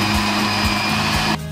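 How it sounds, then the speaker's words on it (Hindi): A blender grinds cooled masala into a thick paste, its loud, steady motor whine close by with faint rhythmic pulses, stopping abruptly near the end. "अब मैं इसको एक ब्लेंडर मशीन में डाल के इसका पेस्ट बना लूँगी"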